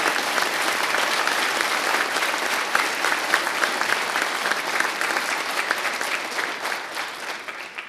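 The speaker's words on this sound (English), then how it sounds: "can everyone give a round of applause for the instructors of HRFA Class 9?" Enthusiastic crowd applause for the instructors at the graduation of Hampton Roads Recruit Fire Academy Class 9, dense sustained clapping that stays loud and even for nearly eight seconds before easing slightly.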